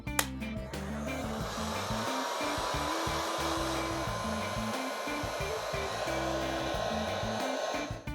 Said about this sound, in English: I'm using my heat gun and I am kind of melting the crayon